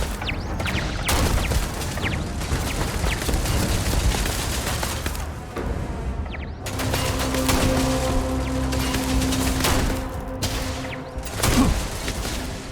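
Gunfire in the sci-fi game Starfield, a dense run of sharp shots and booms broken by short pauses, loud and close, with a steady hum under the later bursts.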